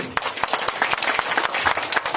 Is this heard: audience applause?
yes